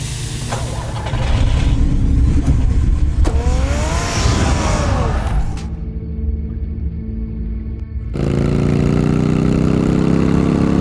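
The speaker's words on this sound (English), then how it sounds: "Get the car ready, Alfred." Car engine in Batman: The Telltale Series turning over and settling into a steady idle, with a loud continuous rumble and a sharp shift in tone partway through, no talking.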